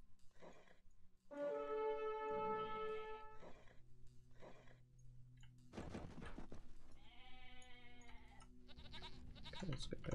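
Goats and sheep in Age of Empires 2, several distinct bleats in quick succession, some long and wavering, others short, mixed with clicks and game effects and no speech.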